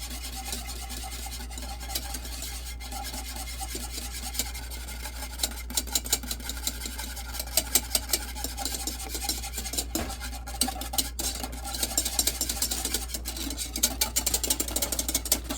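A butter mixture for infused gummies whisked briskly in a bowl, a continuous rasping scrape that grows more rhythmic and sharper toward the end, close and alone over a low hum.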